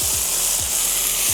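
Vegetables such as corn and carrot drop into a hot pan for egg fried rice, setting off a loud, dense, continuous sizzle with a few soft low knocks from stirring underneath.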